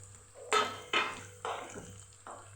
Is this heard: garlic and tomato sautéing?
yes